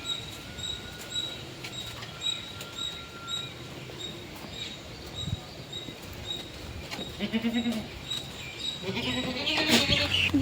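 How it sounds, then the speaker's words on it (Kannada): Goats bleat a few times against a steady outdoor background with faint high-pitched chirping. "ಮೇಕೆ ಇಟ್ಕೊಂಡು ಗದ್ದೆಗೆ ಹೋಗ್ತಿದ್ದೀವಿ ಗೈಸ್"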